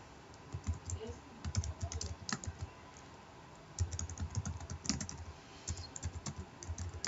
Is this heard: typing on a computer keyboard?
yes